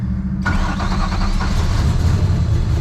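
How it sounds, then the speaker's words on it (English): A turbocharged 4.6-litre two-valve V6 drag car cranks briefly, then fires up and settles into a loud, rough, rumbling idle close by. "So let's see if the old V6 2 valve will crank up this morning."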